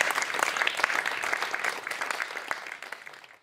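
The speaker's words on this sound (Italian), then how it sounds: "E a voi tutti benvenuti, vi accogliamo con un bel applauso." An audience at the opening of a lakeside Trasimeno event breaks into steady applause, dense clapping that holds for a few seconds and then begins to fade.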